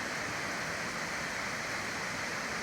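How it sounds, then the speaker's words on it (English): Nachi Falls, a 133-meter waterfall near Kumano Nachi Taisha shrine in Nachikatsuura, Japan, pours in a steady, dense roar of falling water, continuous and unbroken with no voices. "this is Nachi Waterfall or Nachi-no-taki"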